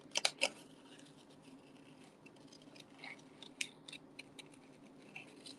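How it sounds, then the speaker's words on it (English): Scissors snip paper in short, quiet bursts while a card is fussy cut for a stamped greeting card, a quick cluster of cuts at first, then softer scattered snips. "See how I move the paper when I fussy cut."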